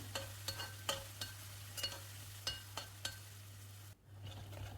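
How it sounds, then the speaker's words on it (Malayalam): Garlic and a large chunk of chopped ginger fry in a pan for a sweet-and-sour lemon-date pickle, with a spoon clinking and scraping in a quick, uneven rhythm over a soft sizzle and a low, steady hum. "നന്നായിട്ടൊന്ന് ഇളക്കി കൊടുക്കാം ഇഞ്ചിയും വെളുത്തുള്ളിയൊക്കെ നന്നായിട്ടൊന്ന് മൂത്ത് വരണം"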